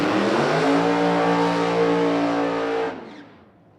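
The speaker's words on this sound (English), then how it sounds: "That is a beautiful race car." A funny car drag racing engine roars loud and close in a sustained, harmonic blast during testing, then cuts off abruptly near the end and fades to quiet.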